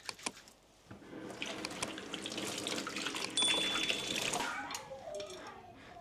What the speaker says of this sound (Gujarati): તો 1 મિનિટ સુધી ધોઈએ હાથ, સ્મેલ ના આવી જાય હાથમાંથી.